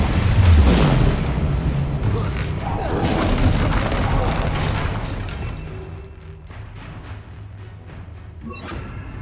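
Incendio fire spell cast in the Hogwarts Legacy video game, a loud burst of roaring flame and rumbling blast up front that thins into a crackling tail and fades, with game ambience behind.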